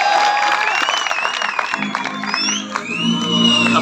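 Applause and scattered cheers rise from the audience at an agricultural university's annual dinner party, a rolling wash of clapping with whoops and a voice over a loudspeaker heard beneath it.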